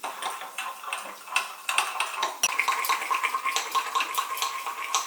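A spoon stirs sugar into coffee in a cup, quick bright clinks and light scraping against ceramic in a fast, uneven rhythm, close up and without talk.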